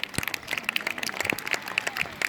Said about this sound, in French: On applaudit Bob.